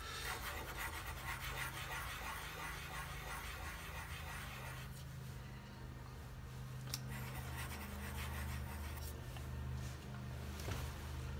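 A cue tip for a Predator Revo shaft has its bottom scuffed with 150 grit sandpaper, giving quiet, close, rhythmic rasping strokes that slow and thin out toward the end.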